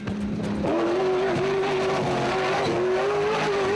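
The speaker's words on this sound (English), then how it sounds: "Also a glorious note to the BMW V8" A BMW X3 V8 rally car roars loudly nearby at full throttle, its engine note climbing and holding steady with brief dips at gear changes.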